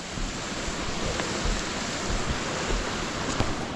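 Steady broadband wash of creek water running over a shallow trail crossing on a mountain hike, continuous and fairly close, with no voices.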